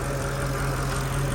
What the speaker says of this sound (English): Idling nice and tidy